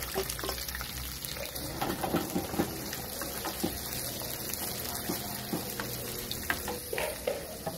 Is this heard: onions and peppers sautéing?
yes